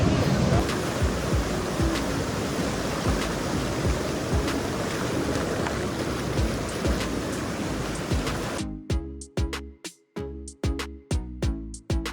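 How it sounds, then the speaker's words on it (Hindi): Mountain river water rushing at Doodh Pathri in Kashmir, a loud steady broadband roar that cuts off abruptly, giving way to broken bursts of handling noise and fainter flow. "तो आइए आपको दिखाते हैं नदी"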